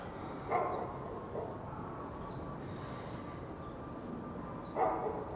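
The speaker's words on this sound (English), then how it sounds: "You can hear my neighbor's dog in the background." A dog barks faintly in the distance, two short bursts a few seconds apart over a steady outdoor hum.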